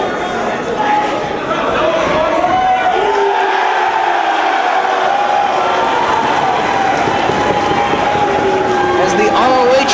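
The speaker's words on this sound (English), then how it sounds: "The fans here tonight in Philadelphia very vocal in their support of their chosen wrestler in this match." A loud wrestling crowd in Philadelphia cheers and chants continuously, a dense roar of many voices filling the arena with rising shouts.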